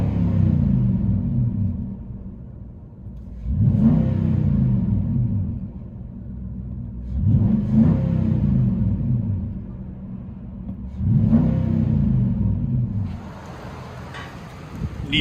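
A Nissan Titan 5.6L V8 with true dual exhaust and a Magnaflow-style muffler, heard from inside the cab, revs in four low, rumbling surges that swell and settle back to a steady idle.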